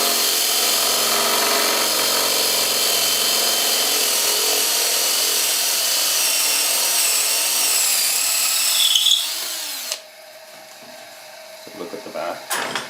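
A hand-sharpened drill bores steadily through wood with a continuous grinding, rubbing whir for about nine seconds, then breaks through and stops, leaving faint handling noises.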